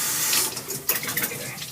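Wine dripping and trickling from an auto siphon during home brewing, a steady close wet splashing like a running tap, with a few brighter drops standing out.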